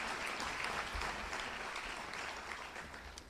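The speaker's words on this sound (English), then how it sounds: "a round of applause." Audience applause at an exhibition launch for the Houses of Parliament, continuous even clapping from a crowd, moderately distant and steady for the whole stretch.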